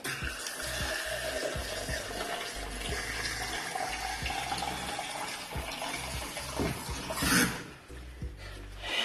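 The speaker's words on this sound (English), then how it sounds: "get some water." Water runs steadily from a tap for several seconds, a continuous broadband splashing with a brief louder gush near the end.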